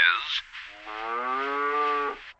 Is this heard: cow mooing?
yes